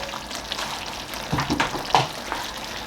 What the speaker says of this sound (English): I'm going to give it a good stir so that it can go round